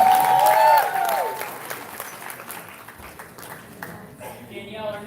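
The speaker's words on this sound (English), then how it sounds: "Keep it going for another round of applause." Crowd at an open mic night applauding and cheering for a performer: steady, fairly close clapping with voices over it and a brief tonal sound at the start.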